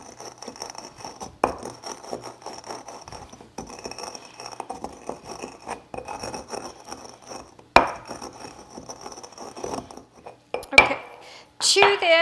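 Roasted guacamole ingredients are muddled in a stone molcajete, giving repeated close grinding, scraping and knocking of stone on stone, irregular and without speech.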